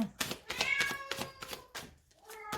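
A cat meows several times up close in a quiet room, a series of short, rising and falling calls with brief pauses between them.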